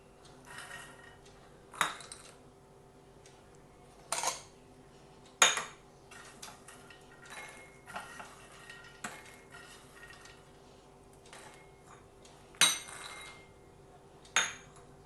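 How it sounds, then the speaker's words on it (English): Makhana (fox nuts) tipped into a bowl and stirred for a chaat, giving a string of sharp clinks and knocks of a spoon against the bowl at irregular intervals, with soft rustling between them and no talk. "Mix it well. Now we are going to add some makhana."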